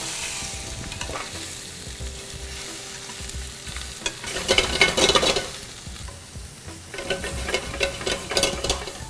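Shrimp sizzles and crackles in a hot pan, with scraping stirring strokes that swell into louder bursts of frying; no voices.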